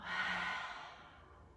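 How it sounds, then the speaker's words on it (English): A single deep, breathy exhale during a yoga cool-down, close and soft, fading out gradually over about a second with no talking. "Just feeling that with one more deep, powerful breath. Inhale and let it go."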